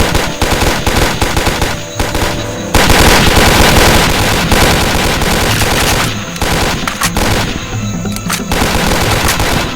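Dense, loud automatic gunfire and rapid shots from the Soldier of Fortune 2 PC game, continuous bursts with no pauses, layered over a busy jungle battle soundscape.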